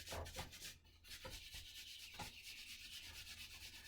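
Wet wool felt wrapped in bubble wrap is rubbed by hand for a felted flower, a soft, close, repetitive swishing and scrubbing texture that continues throughout at low volume.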